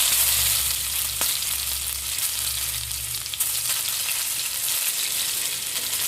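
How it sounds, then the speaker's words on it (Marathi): Peanuts fry in hot oil in a kadai, a steady, loud, close sizzle that fills the whole stretch without a break, with no voices. "कढईत तेल गरम करून शेंगदाणे छान कुरकुरीत तळून घ्या"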